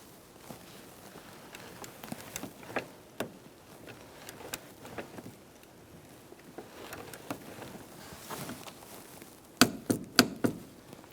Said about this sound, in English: Now we're going to torque our 3 nuts.